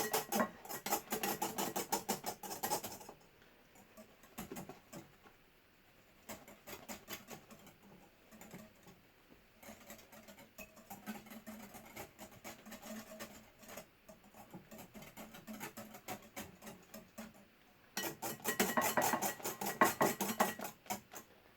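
A whisk beats cake topping by hand in a bowl, a quick, steady scraping and tapping that runs in bursts, loudest at the start and again near the end, with short pauses between.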